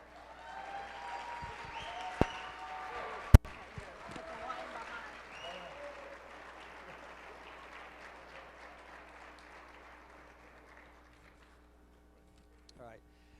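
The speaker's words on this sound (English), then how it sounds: "can we give this group a round of applause?" An audience at an intellectual property alliance celebration breaks into a long round of applause that swells quickly, holds steady, then slowly thins out and fades to quiet after about ten seconds.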